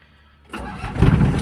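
A used single-cab pickup truck engine cranks after a short quiet moment, then catches and settles into a loud, rumbling idle close by.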